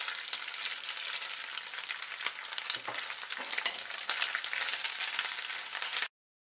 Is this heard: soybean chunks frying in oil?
yes